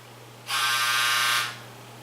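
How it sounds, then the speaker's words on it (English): One loud, harsh electric buzzer from a laundry machine sounds for about a second over a low background hum. "My laundry's done. Did you hear that buzzer?"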